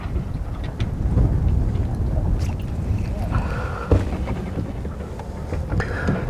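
Wind buffets a microphone on a fishing boat on open water, a steady close low rumble with gusts swelling and easing throughout, no talk over it.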